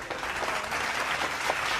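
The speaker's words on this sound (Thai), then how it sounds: "ต้องขอเสียงปรบมือให้กับน้องอุ้งอิงสักครั้งหนึ่งนะครับผม" A studio audience at a Thai television detective contest show applauds in a dense, steady burst of clapping heard up close, with no speech over it.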